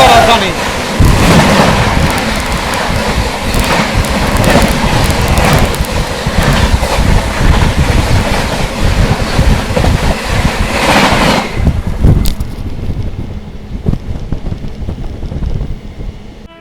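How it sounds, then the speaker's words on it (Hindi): Howrah Rajdhani Express, the New Delhi to Howrah train, rushes past at close range, a loud sustained roar of wheels and carriages lasting about eleven seconds before dropping away to quieter background noise. "नई दिल्ली से चलकर हावड़ा तक जाने वाली हावड़ा राजधानी, किंग ऑफ राजधानी।"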